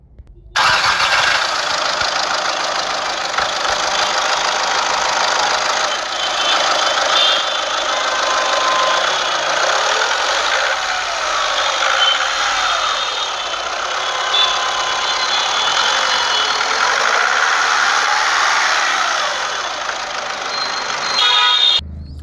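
A 2012 Volkswagen Vento Comfortline diesel car cranks and fires up, then settles into a steady, even diesel idle that stays close and fairly loud, with no talking over it.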